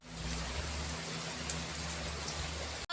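Rain falls in a steady, fairly loud downpour outdoors, a continuous dense patter with a low hum beneath it, cutting off abruptly at the very end.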